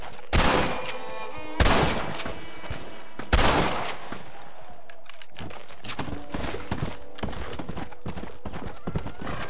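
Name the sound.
gunfire in the video game Red Dead Redemption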